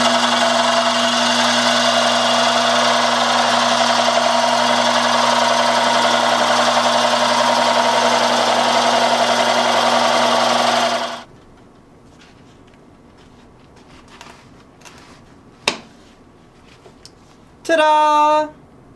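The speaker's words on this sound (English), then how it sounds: "now we're ready to cut it off of the lathe" A metal lathe parts off a Mokume Gane metal piece, a steady loud machining whine with strong tonal hum that runs for about eleven seconds, then stops, leaving faint knocks and a brief rising whir.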